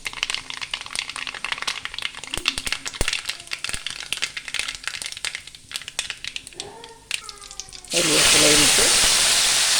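Curry leaves dropped into hot oil with popped mustard seeds burst into a loud, sustained sizzle. Light clinks and rattles of kitchen utensils and a voice come first.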